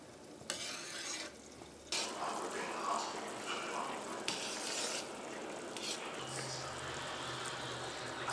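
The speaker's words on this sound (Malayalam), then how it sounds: "ഇത് ചെറുതായിട്ട് തിക്കായിട്ട് വന്നു തുടങ്ങിയിട്ടുണ്ടെങ്കിൽ പിന്നെ നമ്മൾ നിർത്താതെ ഇളക്കണം." Thick, dark Tirunelveli black halwa stirred continuously in a pan as it cooks and thickens, giving a steady scraping, bubbling sizzle with occasional louder stirring strokes, close and continuous throughout.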